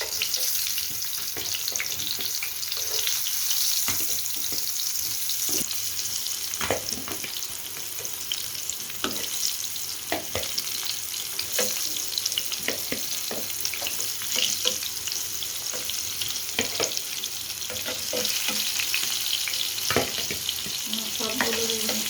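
Eggplant pieces frying in a pan for a Bangladeshi eggplant curry make a steady, close sizzle with scattered sharp crackles and stirring clicks throughout, and no talking.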